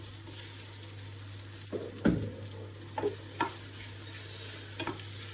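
Gnocchi browning in a pan give off a steady, faint sizzle under a constant low hum, with a few louder clatters and stirring scrapes.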